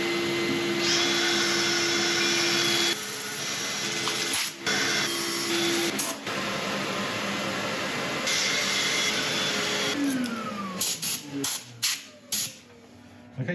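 A wood burl being sanded on a lathe in a workshop, with a steady whirring hum and abrasive hiss that shifts in pitch, then breaks into choppy bursts and stops near the end.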